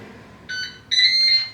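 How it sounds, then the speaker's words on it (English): Ninja Speedi air fryer beeping: two short electronic beep tones, the second longer and louder, clear and close with no talk. "And we've beeped"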